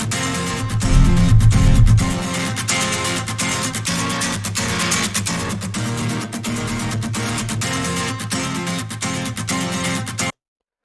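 Free distortion plugin crushing a full music mix, a dense, saturated, compressed sound with steady rhythmic hits, a heavy low-end swell in the first two seconds, then a constant loud wall until it cuts off.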